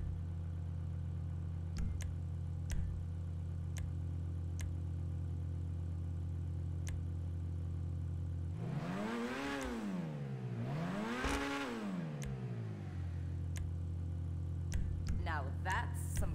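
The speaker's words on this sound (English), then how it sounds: "Now that's some kind of engine." A car engine idles steadily at a dealership with a low constant hum, then is revved twice in quick succession, each rev rising and falling smoothly before settling back to idle.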